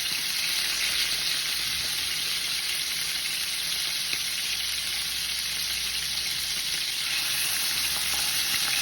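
Chicken pieces fry skin side down in hot oil for a mushroom chicken dish, giving a steady, close, loud sizzle and crackle that runs unbroken throughout.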